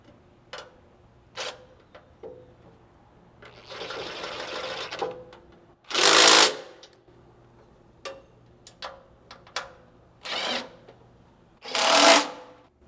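A drill or driver tightens the side bolts while a GX460 rock slider is installed, in several short bursts, one longer run, and a few clicks and clanks of tools and metal parts, close by.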